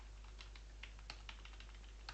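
Faint keystrokes on a computer keyboard, irregular clicks and taps spread unevenly over a low steady hum, typed in bursts while coding, with no talk.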